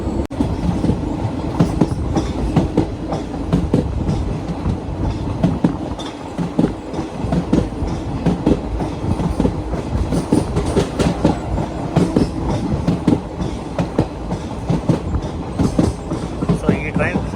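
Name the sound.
Venkatadri Express train running on rails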